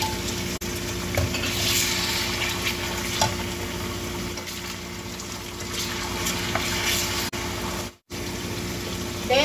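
Chicken stir-fried with onion for pancit bihon in a hot pan, a steady broadband sizzle with stirring scrapes throughout and a brief dropout near the end.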